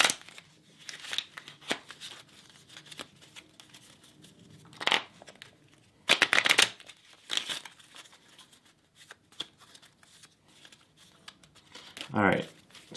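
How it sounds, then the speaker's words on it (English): Playing cards are shuffled and drawn at a giveaway drawing, with scattered crisp riffles, flicks and crinkly handling noises coming in bursts, quiet and close, with speech in between. "So we're just going to keep drawing cards until we find"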